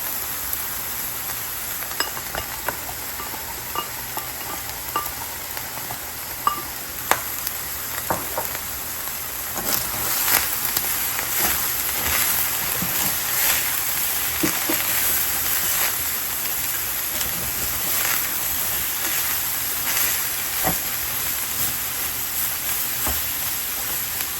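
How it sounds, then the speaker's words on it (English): Ground beef frying in a pan as chopped onion and peppers go in, a soft continuous sizzle with scattered pops and occasional utensil taps, fairly quiet and even, with no voices. "the ground beef is getting some color on it, so I'm going to add in my onion and peppers"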